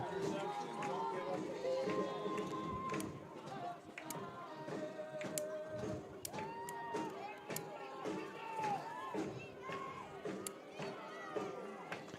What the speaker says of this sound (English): And this crowd coming to life here at Gary Wheeler Field.